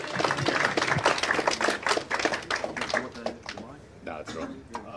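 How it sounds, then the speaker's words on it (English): An audience at a live blockchain conference claps in a burst of scattered applause that thins out toward the end, with a voice talking over it. "one more round of applause for Castle Coin"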